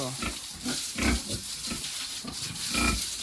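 A pig on a farm grunts and snorts repeatedly in short close bursts, with rustling and faint background noise between the grunts.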